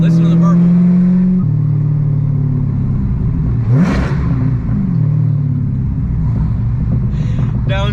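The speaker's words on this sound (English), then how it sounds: "Listen to the burble." A manual six-speed Hellcat Charger with a deep, loud exhaust burble that runs steadily throughout, with a brief rise in revs near the middle.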